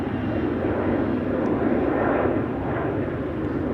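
An airliner departs from Schiphol's Polderbaan runway during parallel departures, producing a loud, continuous jet-engine roar that swells slightly and stays steady, with no talking.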